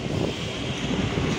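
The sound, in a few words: wind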